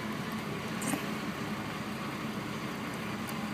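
A Chevy Blazer's engine runs at idle, a quiet steady low rumble with a soft even hiss and no change in speed.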